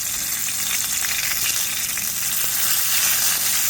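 Walleye wings frying in hot grease, a steady, close, continuous sizzle with crackling pops throughout and no talking.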